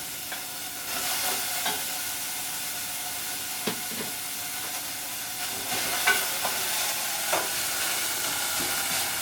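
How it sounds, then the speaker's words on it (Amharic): Onions sizzle and hiss steadily in a pot for Ethiopian kinche, cracked-wheat porridge. Soft stirring clicks and scrapes come through now and then over the continuous frying. "እና በሽንኩርት በምንሰራበት ጊዜ መጀመሪያ ሽንኩርቱን ጠበስ እናደርገዋለን።"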